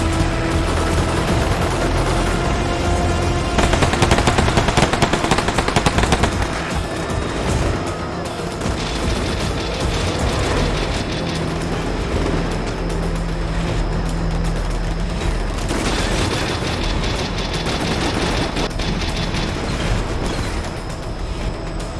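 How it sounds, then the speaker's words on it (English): Combat Mission Shock Force battle at an airport, with continuous rumbling armored BTR vehicles and bursts of gunfire firing from tree cover, dense and steady battle noise from start to finish. "one of C Company's BTRs plugs the hole, firing from the cover of trees."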